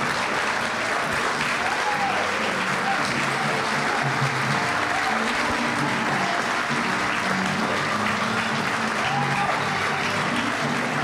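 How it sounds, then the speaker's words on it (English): Standing audience at an awards ceremony applauding the city mayor, long, steady, loud clapping throughout, with cheers and voices mixed into the crowd noise. "Join me by standing and giving him a rousing applause."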